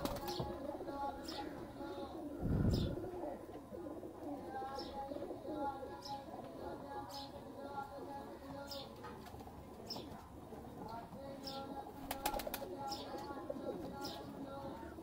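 Pigeons coo softly in the background while someone talks over them.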